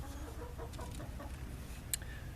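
Backyard chickens cluck softly at a distance, a few scattered low calls over steady background noise, with one sharp brief sound near the end.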